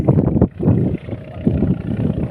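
Strong wind buffets the microphone in loud, low gusts that rise and fall in uneven bursts at a vannamei shrimp pond harvest.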